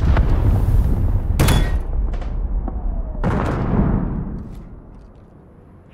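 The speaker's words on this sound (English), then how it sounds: "Hostiles launched your cruise missile." Heavy booms from a cruise missile strike thunder through Modern Warfare 3 gameplay on the Skidrow map in Control mode. Two sharp blasts stand out over a rumbling barrage that fades toward the end.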